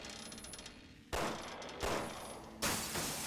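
Gunshots in the video game Resident Evil 6: three loud, sharp reports spaced about a second apart, each followed by a short ringing decay, after a quiet opening.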